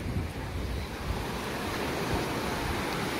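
Sea waves wash onto a fine-sand beach in Adler without breakwaters, making a steady, rushing surf with wind buffeting the microphone. The sound is continuous and fairly loud, with no voices.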